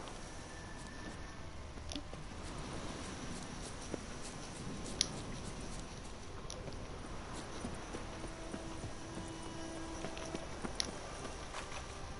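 Horse hooves clip-clop steadily through a PS4 video game, a continuous walking rhythm of soft, even footfalls that runs throughout, set against a dense, constant ambient bed with no talking.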